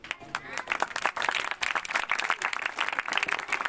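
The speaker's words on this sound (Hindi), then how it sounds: "तो जरूर है उस ग्रुप के लिए भी हम तालियां बजाएं।" Scattered applause in a church gathering for a group at a Christmas service, moderately loud with irregular hand claps and a voice talking over it.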